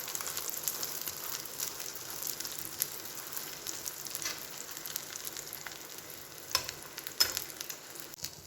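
Roti frying in a pan with beaten egg for an egg roll, a steady close sizzle with soft scraping and a couple of sharper crackles near the end, no voices.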